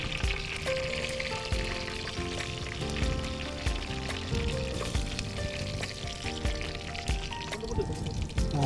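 Ginger and garlic hitting hot oil in a pan for Kerala coastal-style tuna curry, a continuous loud sizzle and crackle of frying with stirring, no talk.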